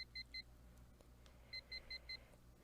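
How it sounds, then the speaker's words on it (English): Alarm clock in a cramped apartment in the video game Last Window, beeping in quick pairs of short electronic chirps, a pause, then four more paired beeps over a low room hum. "The alarm in my cramped apartment starts to beep."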